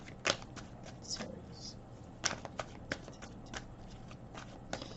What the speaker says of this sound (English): I'm done shuffling.